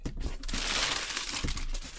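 Packing paper crinkles and crumples continuously and close up while a Hot Toys Star Wars figure is unboxed.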